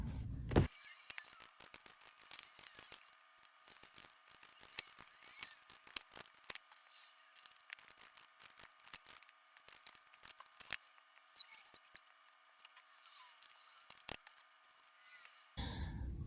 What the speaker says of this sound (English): I will go ahead and shuffle the cards